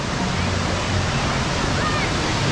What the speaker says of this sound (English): now I'm in the wave pool